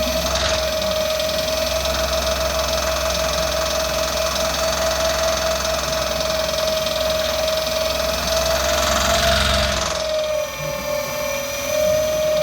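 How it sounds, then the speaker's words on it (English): A hydraulic jack runs steadily beside a Dualtron X 2 electric scooter during a tire sealant job, giving a loud, continuous motorized whine with a constant pitch that holds evenly throughout and dips briefly near the end. "That's my hydraulic jack, all that noise you hear."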